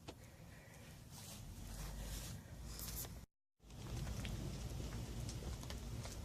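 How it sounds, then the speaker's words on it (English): Rain falling outdoors, a steady broadband hiss that runs evenly apart from a brief dropout near the middle. "we're actually getting some rain. Just began to rain."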